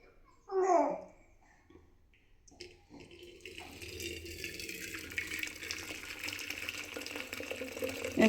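Jaggery syrup, made by melting jaggery in boiling water, is poured through a strainer with a steady close trickling and splashing that builds and continues after a brief voice at the start.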